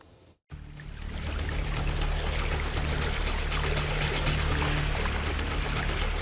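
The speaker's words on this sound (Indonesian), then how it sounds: "Banjir akibat terus meluapnya Sungai Citarum dan Sungai Cibeet." Floodwater from the overflowing Citarum and Cibeet rivers in Karawang, West Java rushes in a loud, continuous broadband roar after a brief cut at the start.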